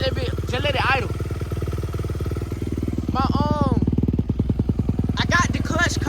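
A dirt bike engine idles steadily after clutch cover repairs, a low continuous putter running underneath close-up talking throughout.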